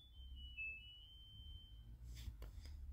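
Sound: washing machine beeping after finishing wash cycle

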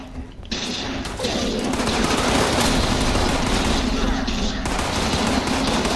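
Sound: gunfire in Fallout 76 video game

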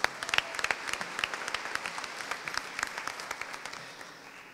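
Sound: audience applause at an awards ceremony

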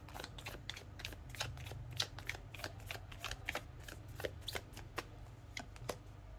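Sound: tarot cards being shuffled and drawn

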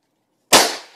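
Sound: rifle gunshot fired out an open window

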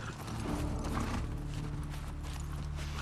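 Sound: horse hooves from The Last of Us Part II video game

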